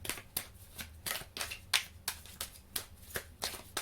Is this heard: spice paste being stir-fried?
no